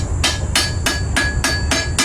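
A hammer strikes a heated sword blade during forging, seven loud metallic blows in a steady rhythm about a third of a second apart, each with a brief ringing tone, close up.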